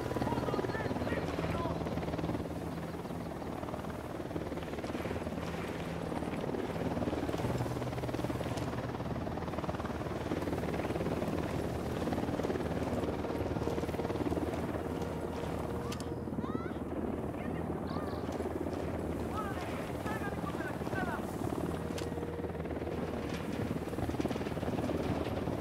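A helicopter flies overhead in the Ghost Recon Wildlands video game, its steady rotor drone continuous and fairly loud throughout, with occasional game sounds and voices layered over it.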